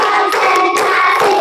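Children clap their hands in a classroom clapping song, with steady, fairly loud rhythmic claps and singing voices throughout.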